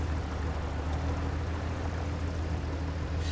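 An airplane engine in Microsoft Flight Simulator 2020 drones at a constant level throughout, a dense and even hum with no talk.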